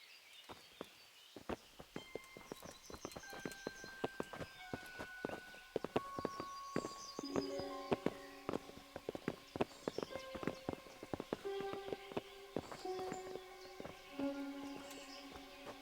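Horses walking in the medieval role-playing game Kingdom Come: Deliverance, steady hoof clip-clops in a loose rhythm, fairly close, with tonal game music or chimes running alongside.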